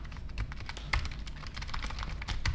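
Keys on a PinePhone keyboard pressed at an angle so they jam, giving a steady run of close, fairly loud plastic clicks and taps with no talk.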